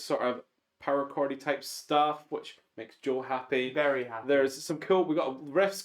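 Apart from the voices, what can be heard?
No everyday noises stand out.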